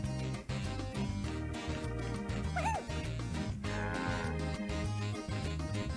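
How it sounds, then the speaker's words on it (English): A dog barks a few times, mixed into loud music that plays throughout. "Woof, woof."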